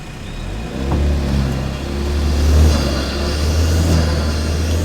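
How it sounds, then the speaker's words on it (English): A truck climbs a sandy hill in Ocala National Forest, its engine giving a loud, deep, close revving rumble that swells and holds as it pushes upward. "Just check out that raw power as that truck just zooms right up the hill"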